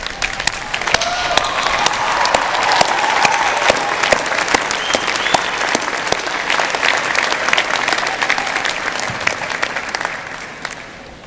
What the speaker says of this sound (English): please stand up and give a big round of applause to your families and friends